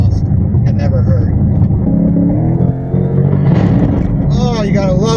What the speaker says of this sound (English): Oh, you gotta love that sound, that exhaust.